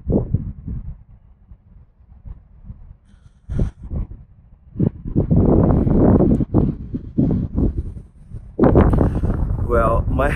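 Wind gusts buffet the microphone on a rooftop, coming as loud rumbling bursts that swell and drop, with speech heard between and under the gusts.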